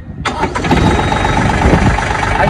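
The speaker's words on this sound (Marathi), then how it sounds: "आता आपण कशा प्रकारे ट्रॅक्टर स्टार्ट होणार ते बघू शकतो" A Mahindra Oja tractor engine cranks and catches, then settles into a loud, steady diesel chug close by.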